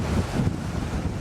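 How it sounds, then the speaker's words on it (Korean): Rough open-sea waves surge and churn under steady wind buffeting the microphone, a continuous low roar far offshore near remote islands, with no voices. "너무 파도가 쉬어 지금"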